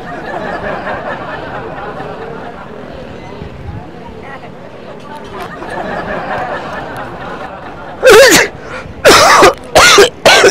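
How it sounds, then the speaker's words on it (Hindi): Someone blows their nose hard over an egg burger being made, in three or four loud, sharp bursts near the end. Before that comes a stretch of muffled chatter and background noise. "नाक साफ कर रहा है बर्गर के ऊपर तुम यार"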